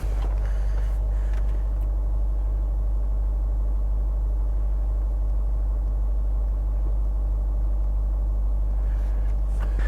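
Range Rover on the road just after a gearbox replacement, its engine giving a constant low rumble and droning cabin noise for the whole stretch, steady and unbroken, with no one speaking.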